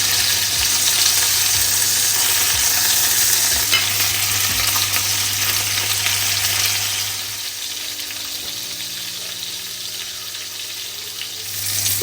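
Homemade burger patties fry in a pan with a loud, steady, close sizzle that continues throughout and eases slightly toward the end.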